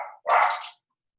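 A dog gives a single short, close bark, preceded by a brief softer yelp, then silence.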